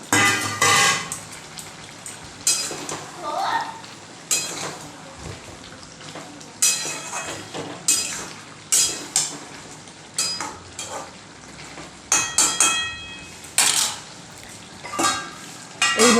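Chicken with fried potatoes cooking in a pan on high flame, a steady sizzle broken by repeated scraping and stirring clatter of a spatula against the pan.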